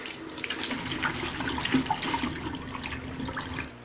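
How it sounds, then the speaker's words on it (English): Tap water runs steadily into a sink while an aquarium filter cartridge is held under it, a continuous splashing rush, close and fairly loud, with no talking. "turn the water on,"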